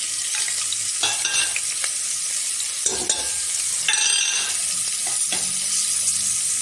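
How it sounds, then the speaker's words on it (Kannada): Finely chopped onion sizzling in hot oil in a pan while being stirred, a steady close hiss broken by several scraping strokes of the spatula and a few louder bursts, with no one talking. "ಇವಾಗ ದಪ್ಪದೊಂದು ಈರುಳ್ಳಿ ಹಾಕ್ತಾಯಿದ್ದೀನಿ."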